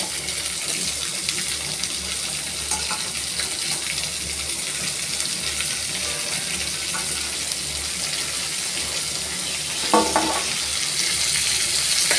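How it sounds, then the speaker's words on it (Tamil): Bitter gourd pieces sauté in oil with onions in a pan, a continuous close sizzle and hiss with occasional stirring scrapes and a brief clatter near the end. "பாவக்காயை இந்த எண்ணெயிலேயே நல்லா வதக்கிக்கோங்க"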